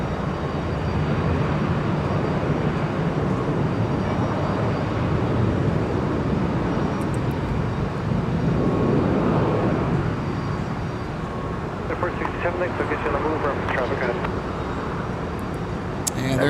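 A Delta heavy jet at Minneapolis–St. Paul airport makes a broad, distant rumble that continues under someone talking for the whole stretch.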